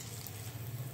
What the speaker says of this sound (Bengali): আমার তেলটা এখন একটু গরম বেশি আছে, সাথে সাথেই ভাজা হয়ে গেল।